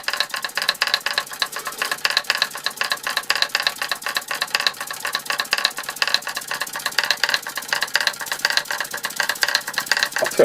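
A 1905 Fritz Neumier steam engine drives rebuilt Martinet steam hammers, producing a fast, continuous mechanical rattle and clatter of rapid repeating beats, fairly close and steady throughout.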